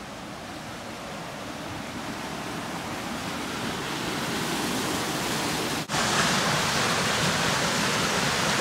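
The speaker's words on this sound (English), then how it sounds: "And the water is flowing with quite some force and pushing the paddles on the water wheel." Water rushes with force through the opened gate of a watermill, driving the paddles of the water wheel: a loud, steady, broadband roar that builds slightly and continues unbroken, with no voices.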